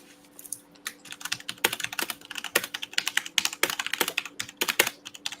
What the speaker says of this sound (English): Somebody's got an old mechanical keyboard.